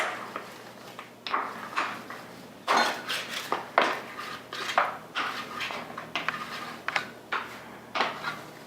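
A small rolling pin presses granola mix into a pan with repeated scraping knocks and light clunks against the pan, in an uneven rhythm, close and moderately quiet.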